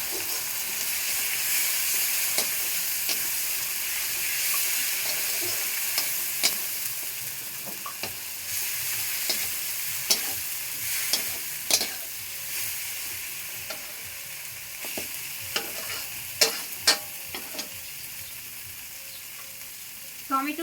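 Coriander powder and spices sautéing in a pan, a steady hiss and sizzle with frequent scraping taps of a spoon stirring, close and continuous with no talking.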